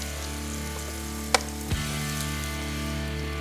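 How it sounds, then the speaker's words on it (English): Mushrooms sizzling in melted butter in a pan on a PK 360 charcoal grill, a steady crackling hiss with a faint clink partway through. "Now, I'm going to get my mushrooms down."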